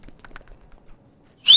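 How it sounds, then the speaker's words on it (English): A short, clumsy whistle from a character in Final Fantasy XVI comes in at the end after faint quiet sounds, one brief rising tone with no talk over it. "So bad at whistling."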